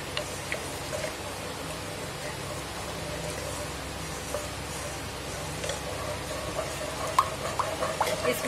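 Pizza white sauce made with milk bubbles and sizzles softly in a pan as it starts to boil, a low steady hiss with faint pops, while a voice talks over it.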